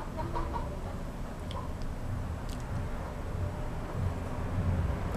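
A chicken clucks a few times over a loud, rumbling background noise, the bird's calls short and partly buried.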